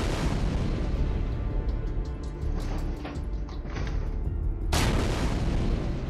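Explosives detonating on fuel depot struts in Space Engineers, a dense, sustained rumbling boom with a fresh loud blast near the end, no talking.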